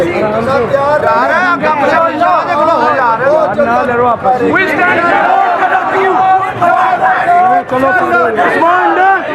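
A protest crowd chanting slogans together, dense overlapping voices shouting in rhythm, loud and close, continuing without pause.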